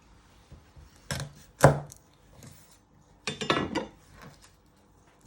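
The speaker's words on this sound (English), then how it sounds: "You're going to chop your ends off." A knife strikes a cutting board in a few sharp, close chops while trimming the ends off garlic cloves, spaced apart with short pauses between them and no talking.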